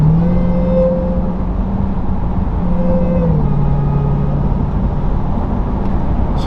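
A 2023 Dodge Durango Hellcat with a muffler delete runs loud and close, a constant deep engine drone with a low whine that dips and rises slightly as it idles or cruises.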